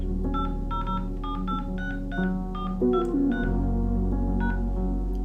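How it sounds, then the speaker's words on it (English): A phone number is keyed in on a telephone keypad for an automated call-back system, giving a rapid string of roughly a dozen short, clear DTMF touch-tone beeps in uneven rhythm over a steady background hum, with no talking. "please dial your 10-digit phone number followed by the pound sign"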